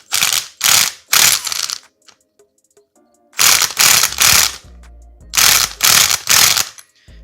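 Milwaukee impact gun in reverse tightening the left-hand-thread primary drive gear on a Kawasaki KFX450R engine, three loud rapid hammering bursts, a pause with small metallic clicks, then six more close impact bursts.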